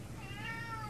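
A single short, clear meow from a nearby cat, rising then falling over a soft background hum.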